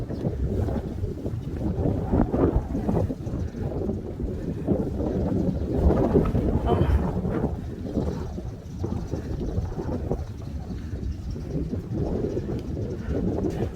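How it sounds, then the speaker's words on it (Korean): Strong outdoor wind buffeting the microphone, a constant low roaring rumble that barely lets up, loud and close. "바람이 쏙 세요"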